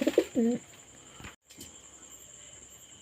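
A pigeon gives a short, fairly close coo at the very start while being dosed with feather-growth medicine, then only faint room noise and a few small clicks follow.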